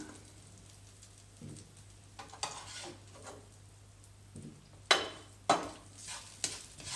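A fish slice scrapes and lifts chilli out of an oily frying pan over a soft sizzle, with sharp metallic scrapes and clinks that come in bursts toward the end.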